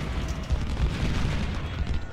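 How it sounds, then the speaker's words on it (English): Cannon fire and artillery booms in a Civil War battle at the Potomac fort in Ultimate General: Civil War, a continuous low rumble of overlapping blasts with no clear gaps, steady and moderately loud, with no voices. "Those cannons are brutal."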